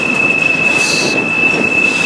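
A freight train rolling downhill from a mountain pass, heard from aboard while trainhopping: a loud, sustained high wheel squeal over a steady roar of rolling stock, with a brief brighter screech partway through.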